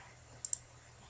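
Two quick, sharp mouse clicks selecting buttons in CATIA v5 design software, close and crisp over a faint steady background hum.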